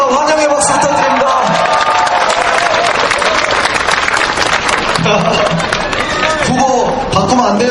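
A crowd at a campaign rally by Gaebong station claps and cheers to welcome Professor Cho Kuk, with loud, dense, continuous applause and voices calling out over it throughout.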